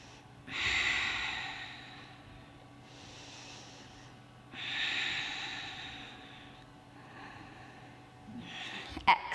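Deep breaths during a floor workout stretch: slow, close inhales and exhales in long airy swells, about three or four breaths, with a small knock near the end.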